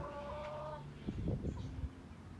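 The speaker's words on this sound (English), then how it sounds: "of course the chooks and the chook house" Backyard chickens near a chook house give a few low, soft clucks in a short cluster after a thin tonal call, fairly close but quiet over a steady background.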